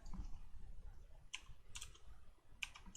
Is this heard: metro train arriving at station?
no